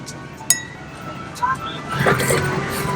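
Glasses clink together in a toast aboard a Qatar Airways business class flight, one sharp chime near the start followed by brighter clinks later, over steady cabin hum with a voice speaking.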